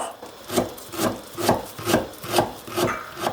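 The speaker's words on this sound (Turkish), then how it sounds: "2 orta boy soğanımız olabildiğince ince şekilde kıyıyoruz" Two medium onions are finely chopped with a knife on a board, producing steady, evenly spaced rhythmic strokes, about seven in a row, close and clear.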